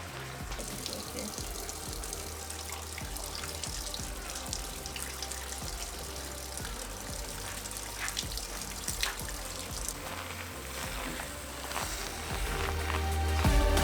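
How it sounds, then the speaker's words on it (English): Water splashing and running steadily at a purification fountain outside a Tokyo shrine during hand washing, a continuous wash of flow mixed with outdoor crowd murmur and footsteps, growing louder near the end. "there's a purification process where you're supposed to take the water, wash your hand, press it against your lips, wash your hands again"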